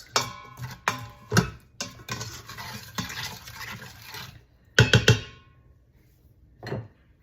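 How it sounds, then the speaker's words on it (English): A spoon stirs brown sugar into a Mongolian beef sauce in a pan, producing close scraping and clinking strokes in uneven bursts, with a few sharper knocks and short pauses, and no talking. "2/3 cup of brown sugar. Stir that up."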